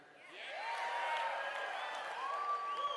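A conference audience applauds with dense, sustained clapping, and scattered whoops and cheers rise above it, filling a large hall.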